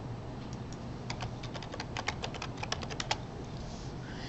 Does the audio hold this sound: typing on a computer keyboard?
yes